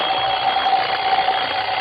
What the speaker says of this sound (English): I heard the alarm we'd set go off